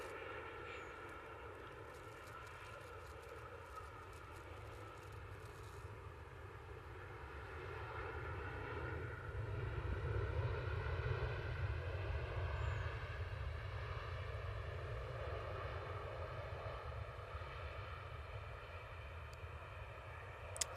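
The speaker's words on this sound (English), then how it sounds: "The Junyao 787-9 Dreamliner." A Juneyao Boeing 787-9 Dreamliner jet in Ruby livery drones steadily with layered engine tones, swelling slightly louder midway and holding a continuous roar at moderate distance.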